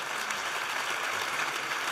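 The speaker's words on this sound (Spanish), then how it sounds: "Pido un nuevo aplauso, en este caso ya para todos los ponentes." Audience at a conference panel on innovation applauds all the speakers at once; dense, even clapping runs steadily throughout, loud and close, with no voices over it.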